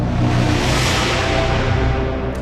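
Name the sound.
cinematic trailer braam hit sound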